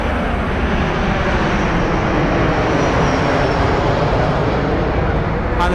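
A Southwest airliner approaches Las Vegas Harry Reid International Airport, its jet engines making a loud, continuous, close roar that holds steady throughout.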